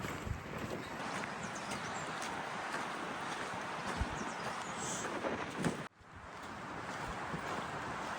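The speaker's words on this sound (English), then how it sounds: "It's so cold and windy here." Strong, cold wind on a hiking trail in Gran Canaria roars steadily across the microphone, buffeting in gusts, briefly dropping out before rushing back in.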